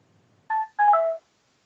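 A phone chirps during a televised Scrabble final, two short electronic tones in quick succession, the second longer, against a quiet room.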